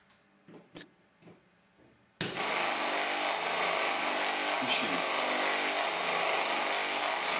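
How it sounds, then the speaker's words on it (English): A mains-powered motor-generator starts abruptly after a few faint clicks, then runs with a loud, steady broadband whir and hum that holds unchanged to the end. "Here's our engine."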